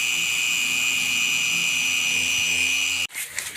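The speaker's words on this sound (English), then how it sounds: "Trying to get into some tight areas with a 3-inch buffer" A 3-inch power buffer whirs steadily with a high, grinding whine against the body of a 1995 Firebird for about three seconds, then abruptly stops.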